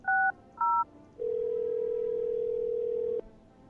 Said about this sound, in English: I might actually give them a little bit of a phone call.